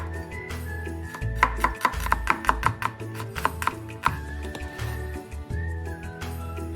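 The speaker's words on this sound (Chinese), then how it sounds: "120克小红葱切成薄片" A knife thinly slices 120 g of shallots on a board, giving a quick run of crisp, close chopping taps that pause and resume over a steady background hum with a few thin whistling tones.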